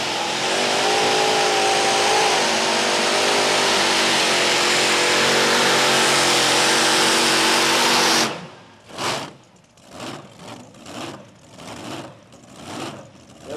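A modified pulling tractor powered by three 526-cubic-inch JPI Hemi engines roars at full power for about eight seconds at a 1996 USHRA pull in Chapel Hill, Tennessee, then cuts off abruptly, leaving someone talking in short bursts.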